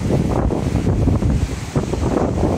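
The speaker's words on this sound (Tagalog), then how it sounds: "lakas ng hangin" Strong wind from Typhoon Aghon in Real, Quezon roars and buffets the microphone continuously, loud and gusty, with a rushing surf-like texture underneath.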